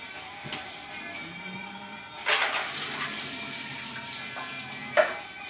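Water from cooked cauliflower pours out into a kitchen sink in a short splashing rush, followed by a brief clatter, with no talking.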